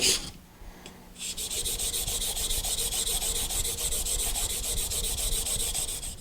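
A plane iron's primary bevel is pushed back and forth on a sharpening stone in a Veritas MK II honing guide, a steady rapid gritty rasping rhythm that runs close and continuous after a brief pause, no voices.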